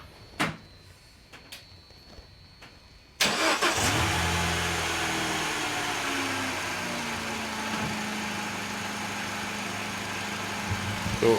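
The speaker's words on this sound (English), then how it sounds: "we want to just run the engine and see what we get" Peugeot VTi petrol engine, which has a camshaft position and oil pressure fault, cranks and fires up at about three seconds, then settles into a steady, fairly loud idle. A few faint clicks come before the start.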